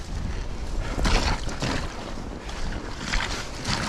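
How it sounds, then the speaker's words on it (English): Wind blows in strong gusts across the microphone during a mountain bike ride through snow, a loud rushing buffeting that swells and eases. "Oh, there's a bit of a wind."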